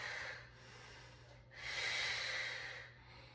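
Slow, audible breathing during a mat Pilates exercise, with two long airy breaths, one inhale and one exhale, close to the microphone and otherwise quiet.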